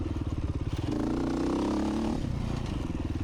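A Husqvarna motorcycle engine runs steadily near at hand, its tone rising into a higher rev in the middle before settling back to a lumpy idle with some clatter.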